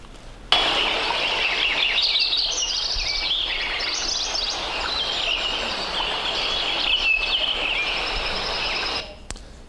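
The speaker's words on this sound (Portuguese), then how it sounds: "nesse som aqui a gente consegue ver a assinatura dos passarinhos e a assinatura de um riacho" Birds chirp and trill in a dense, continuous chorus over a steady rushing wash like flowing water, all fairly close and unbroken.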